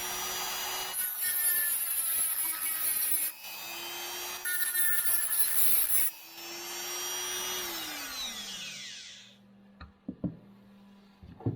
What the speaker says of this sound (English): with the exception of this one spot that has a fair amount of slag on it. So we'll just grind that out